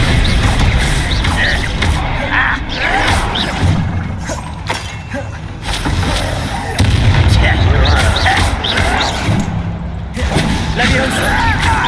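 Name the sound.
Bombarda explosion spell from the video game Hogwarts Legacy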